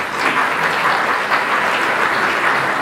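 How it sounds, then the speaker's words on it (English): Gala audience at a masquerade ball applauds in a dense, steady wash of clapping that holds loud and even throughout. "Give yourselves a big round of applause."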